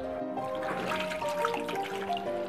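Plain water pours onto grated coconut for a second pressing of coconut milk, a steady close trickle and splash with rising gurgling tones as the bowl fills, alone and fairly soft.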